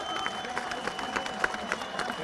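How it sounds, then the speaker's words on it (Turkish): A crowd gathered for the released Beykoz mayor claps for the neighbourhood heads, dense and continuous applause heard from amid the audience, with some voices underneath. "onlara yürekten yürekten bir alkış istiyorum"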